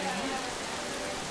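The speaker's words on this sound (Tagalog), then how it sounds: "Pero lakas sa ulan actually." Heavy rain pours down in the Canyon Woods area of Alfonso, a dense and steady hiss that holds at an even loudness and fills the whole moment.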